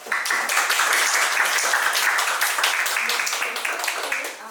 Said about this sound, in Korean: 다시 한 번만 더 큰 박수를 부탁드리겠습니다